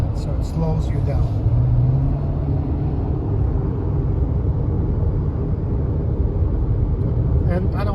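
A Nissan with ProPilot Assist cruising on a road, heard as a steady low rumble of engine and tyre noise from inside the cabin, with a brief rising engine tone early on.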